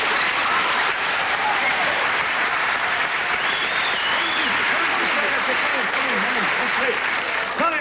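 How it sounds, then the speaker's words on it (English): A television studio audience gives loud, sustained applause to welcome a young guest named Maisie Trumbull on a show with a magician, and a voice comes in over the clapping near the end. "Give her a big round of applause"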